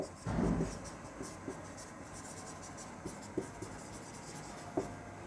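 Chalk or marker writing on a classroom board during a physics lesson on average speed, a brief burst of scratching strokes near the start followed by faint, sparse taps and scrapes.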